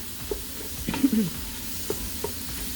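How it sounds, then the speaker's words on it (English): Sausage being stirred and broken up as it fries in a pot of sausage and kale soup, with a few soft scraping strokes and light sizzle close by, no talking. "Gonna stir that nice and good, breaking it up as I go"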